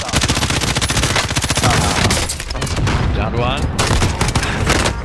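Rapid bursts of automatic gunfire in a shooter video game, loud and close, firing in dense volleys with short pauses, while players talk over the shooting.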